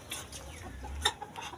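A red Turkish hen clucks on a rooftop while brooding on eggs, giving a few short soft clucks that are close and alone over a low background rumble.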